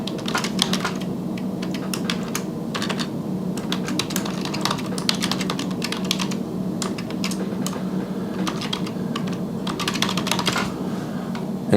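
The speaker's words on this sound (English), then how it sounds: "so we'll have to type it." Steady, fast typing on a computer keyboard, with close, crisp key clicks running continuously throughout in an irregular rhythm and no talk.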